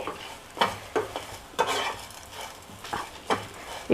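Coconut, chana dal and urad dal roast in a pan for Udupi sambar, a soft dry sizzle broken by regular scraping stirs roughly every half second, close and alone.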